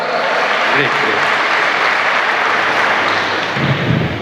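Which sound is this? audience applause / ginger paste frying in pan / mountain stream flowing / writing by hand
audience applause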